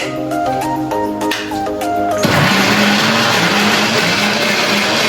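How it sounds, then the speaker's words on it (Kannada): Mixer grinder switching on and grinding fried onion, garlic, cinnamon, cloves, ginger, coriander and mint leaves into masala, a loud sustained whirring roar close by. "ಫ್ರೈ ಮಾಡಿದ್ದಾರೆ, ಈಗ ರುಬ್ಬೇಕು."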